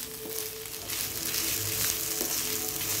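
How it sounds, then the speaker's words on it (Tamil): Grated coconut roasting in a pan gives a steady, close sizzle and crackle throughout, with faint stirring scrapes and no voices. "துருவின தேங்காய் இதை நல்லா வறுத்து அந்த குழம்பில் கொட்டணும்"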